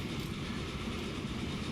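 A train in Transport Fever rumbles along steadily with a rolling rail clatter, moderately loud and unbroken from start to end, with no talk.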